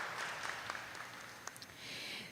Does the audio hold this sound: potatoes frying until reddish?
no